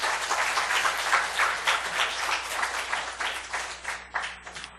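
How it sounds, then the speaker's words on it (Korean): A church congregation claps at a Sunday worship service, a dense, fairly even patter of many hands that carries on steadily, then thins into scattered, uneven claps near the end. "열심히 살라고 박수 한번 쳐주세요."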